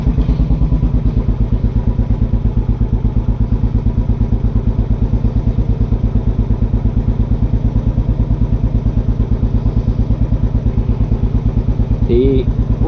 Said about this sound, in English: One good kick.